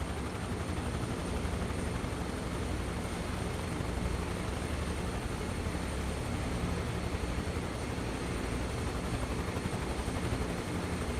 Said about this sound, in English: it's going to be a noisy experience for the people in the stilt village today with all of these helicopters buzzing overhead